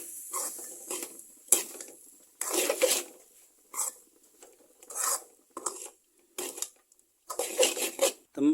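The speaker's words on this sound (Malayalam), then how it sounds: "കാൽ ടീസ്പൂൺ കുരുമുളക് കൂടി ഇട്ട് കൊടുക്കാം ശേഷം നന്നായിട്ട് മിക്സ് ചെയ്യാം" Papaya stir-fry with a quarter teaspoon of black pepper being mixed in a pan on the stove, heard as repeated bursts of scraping and clinking utensil strokes separated by short quiet gaps.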